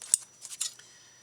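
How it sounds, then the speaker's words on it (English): Scissors trimming the edge off a small paper notebook tablet during card making, giving a few quick, close, soft snips over about a second in an otherwise quiet room. "I'm going to trim that part off."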